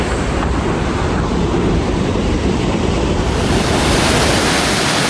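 Multnomah Falls in Oregon roars on a foggy day, a loud, dense, continuous rush of falling water close by with no voices.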